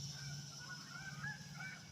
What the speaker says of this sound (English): It might be Canadian geese I'm hearing.